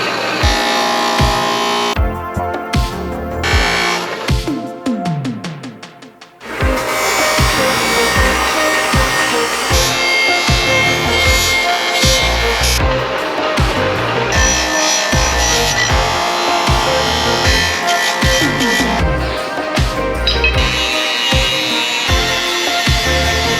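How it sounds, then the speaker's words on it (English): Cleaning wheels strip rust from moped metal parts such as a bracket, producing a loud, continuous abrasive grinding with rhythmic scraping pulses and a brief pause near the start before the grinding resumes. "to do the majority of the metal cleaning, I used these cleaning wheels from PrymeMX.com."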